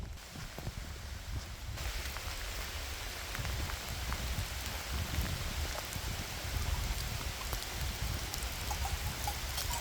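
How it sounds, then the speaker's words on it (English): Steady rain falling across a Polish cemetery, a dense broadband hiss of drops striking surfaces that thickens after the first couple of seconds and holds evenly, close and enveloping, with no voices. "The rain is picking up"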